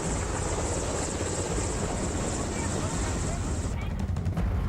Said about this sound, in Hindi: एयरफोर्स के हेलीकॉप्टर बाढ़ के बीच फंसे लोगों को सुरक्षित जगहों पर पहुंचाने की कोशिश में लगे हुए हैं।